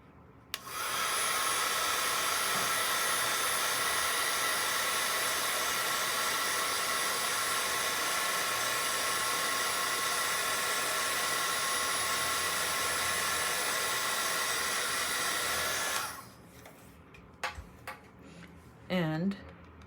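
A hair dryer blows steadily on a wet watercolor painting of a white flower done with Brusho pigments, a loud even whoosh running about fifteen seconds before cutting off, followed by faint brush and paper sounds.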